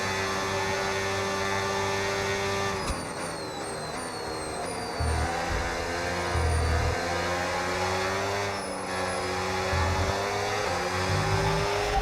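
A Formula 1 car in the racing game F1 26 at Spa-Francorchamps, a Mercedes, runs a sustained high-pitched engine whine with shifting tones and brief chirps of gear changes over a steady electrical hum, with no talking.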